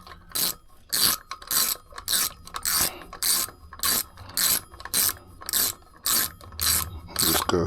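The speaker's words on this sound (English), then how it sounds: "screw that bolt in" A ratchet drives in the sprocket bolt on a QRONGE X1 Spark during a 45-tooth sprocket change. About a dozen loud, close, evenly spaced bursts of clicking follow one another steadily, with no talking.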